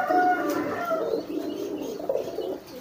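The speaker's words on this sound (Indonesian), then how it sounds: "Bukan berantem ya teman-teman, melainkan giring keras." Pigeons coo in loud, repeated throaty rolls close by as a male drives hard at a female, the calls pulsing irregularly with brief pauses.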